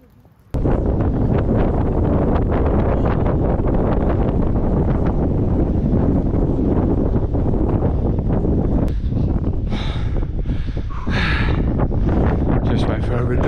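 Strong wind roars across the steep upper slopes of the Mount Rinjani volcano in Indonesia, buffeting the microphone in a loud, continuous rush that starts abruptly and barely lets up.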